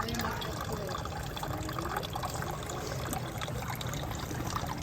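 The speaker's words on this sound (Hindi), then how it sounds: "ये सारी बाल्टी फुल कर दो" Water runs steadily into a bucket, a continuous soft trickle and splash that stays fairly quiet throughout, with faint background noise from the household.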